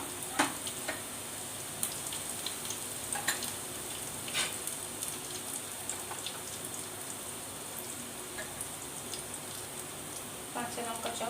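Chopped garlic sizzles steadily in a hot pan, a constant crackling fry with scattered sharp pops and the occasional clink of a utensil stirring.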